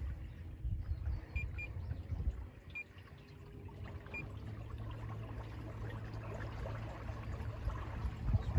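A low, steady electric trolling motor hum drones under water swishing and trickling as a small fishing boat moves along; no one speaks.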